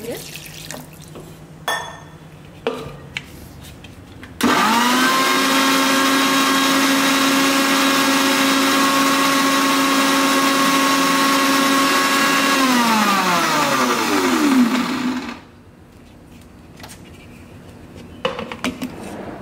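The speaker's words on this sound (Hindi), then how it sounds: "अभी हम इसको मिक्सी घुमाएंगे" A kitchen mixer grinder blends kadai paneer gravy with a little water: a loud, steady motor whine runs for about ten seconds, then winds down in pitch and stops, with quieter handling sounds before and after.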